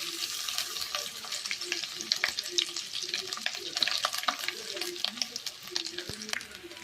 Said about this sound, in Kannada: ತಾರಾಯಿ ತುಪ್ಪಡು ಶೋಕ್ಡೆ ಫ್ರೈ ಮನ್ಪುಗ